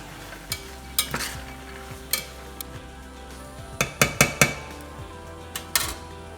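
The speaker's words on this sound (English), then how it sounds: "add in your beans and stir them in as well" A spoon scrapes and knocks against a pot in irregular strokes as beans are stirred into a vegetarian white chili, with a faint sizzle underneath.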